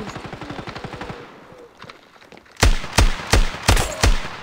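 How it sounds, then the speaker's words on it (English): Automatic AK-47 gunfire in a shooter video game, a quieter rapid burst followed after a pause by five loud, evenly spaced heavy shots close up. "Why must you all have AK-47s?"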